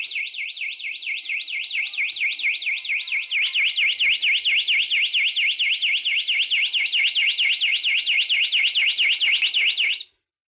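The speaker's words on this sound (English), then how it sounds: "Vibration, breakage, disassembly, and cable clipping triggers alarm at 110 dB to deter thieves" A bike anti-theft cable lock's 110 dB alarm wails in a rapid, loud, warbling siren that rises in volume after a few seconds, then cuts off abruptly near the end.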